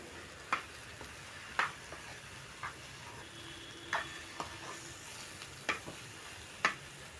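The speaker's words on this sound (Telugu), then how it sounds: "వీటిలన్నిటిని కలిసేటట్టు ఒకసారి నెమ్మదిగా కలుపుకోవాలి." Potato kurma stirred in a pan, a steady low sizzle under a handful of distinct spoon scrapes and clinks spaced about a second apart, without talk.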